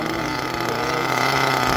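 A nitro RC engine being broken in revs up, a buzzing high-pitched drone that holds steady and loud with a slight rising edge toward the end.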